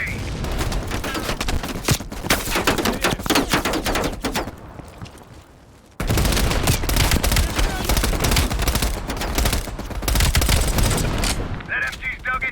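Sustained machine gun bursts and rapid gunfire in Call of Duty: Black Ops Cold War, loud and close, pausing briefly before resuming with heavy fusillades and distant booms.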